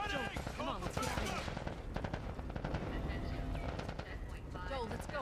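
Dense automatic gunfire in a video game firefight, rapid bursts of shots layered over the noise of battle and continuing throughout, while voices shout under the fire.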